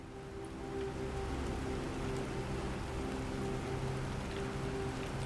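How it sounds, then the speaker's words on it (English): Steady rain falling across an alien planet in Planet Crafter, an even hiss of drops building slightly at the start and then holding constant, with a low hum underneath and no voices. "it's nice that it's raining"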